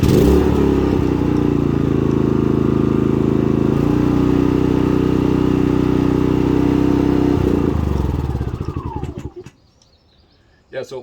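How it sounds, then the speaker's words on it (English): A Pulsar 4000W dual fuel generator runs on propane, a loud, close, steady engine drone that holds evenly for about eight seconds before winding down and shutting off into near silence. "it seems like this one, maybe they engineered it differently, because once you set it to the right position, it pretty much starts on the first pull."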